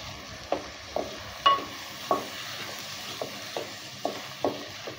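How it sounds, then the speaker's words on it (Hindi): Urad and chana dal fry in a pan, with about nine sharp spatula knocks at a fairly regular pace over a low, steady sizzle, close by and with no talking. "थोड़ा सा हम दालों को फ्राई करेंगे इसी तरीके से।"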